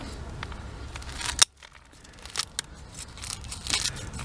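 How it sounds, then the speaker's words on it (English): Shears snipping through the roots of an ash bonsai, a sharp close cut followed by brief quiet, then further crunchy snips and rustling against the soil. "So I'm going to cut through around the outside"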